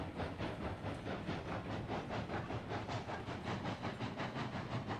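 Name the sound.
locomotive running and pulling train cars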